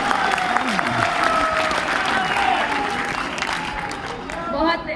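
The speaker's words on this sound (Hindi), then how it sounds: "जोरदार तालियां बजा दीजिए" Audience applause at a Hindi poetry recital, steady clapping from a crowd with voices talking over it throughout.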